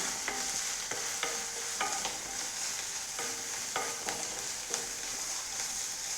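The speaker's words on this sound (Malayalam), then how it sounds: "അപ്പോൾ ഇത് നന്നായി ഒന്ന് ഇളക്കി കൊടുക്കാം." A spoon scrapes and stirs drumstick leaf thoran with grated coconut and garlic in a pan, making repeated short strokes at a steady rhythm over a constant soft sizzle. No one speaks.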